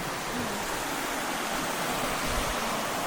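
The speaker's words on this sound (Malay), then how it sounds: "Ni sungai dia geng. Haa sungai dia." A river at a picnic and camping spot near Sintok, Kedah flows with a steady, full rushing of water over rocks, continuous and fairly close, with no voices.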